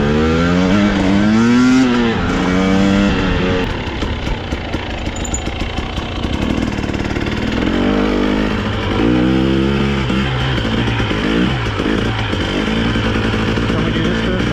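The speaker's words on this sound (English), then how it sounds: "It's just flipping the throttle on this and it just pulls you up." A Husqvarna TE300i enduro motorcycle on a trail, its engine revving loudly in repeated rising and falling throttle bursts, close to the microphone, continuous throughout.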